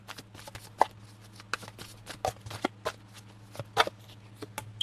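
Tarot cards handled and pulled from a deck, producing a string of soft, irregular flicks, slaps and shuffling rustles close by over a low steady hum, with no talking.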